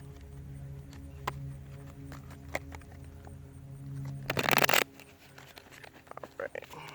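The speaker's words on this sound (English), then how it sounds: "One more shuffle." Tarot cards being shuffled, with brief papery ticks and riffles near the listener, capped by a short burst of rapid card flutter midway and a few scattered taps afterward.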